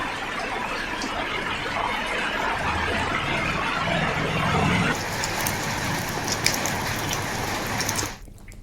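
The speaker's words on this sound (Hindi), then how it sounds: "जिले भर में पिछले कुछ दिनों से लगातार हो रही झमाझम बारिश के चलते मौसम सुहाना हो गया।" Heavy monsoon rain pours steadily in Balod district, a dense, close, continuous hiss of drops on surfaces with a low vehicle-like hum beneath and a brief drop in level at the very end.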